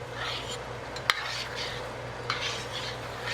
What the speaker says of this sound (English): What I'm gonna do is I'm gonna stir all this in here now.